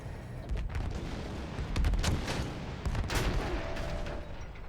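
Gunfire and explosive booms in the World War I shooter Battlefield 1 on Xbox One, played on an oil-field map with field guns and bombers around: dense, overlapping shots and blasts rolling through the whole stretch, loud and continuous.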